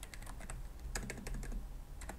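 Rapid typing on a computer keyboard while scripting coroutines in Unity, a steady run of light, close clicks and key taps with brief pauses between bursts.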